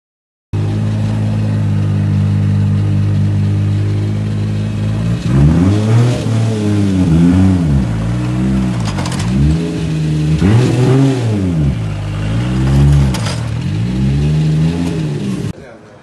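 A warmed-up car engine idles steadily, then revs repeatedly in rising and falling surges as the car pulls away, loud and close throughout.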